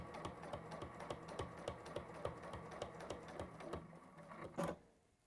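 A sewing machine runs a short holding stitch, its needle clattering in a steady, rapid rhythm for several seconds before a final clunk as it stops, close and fairly loud.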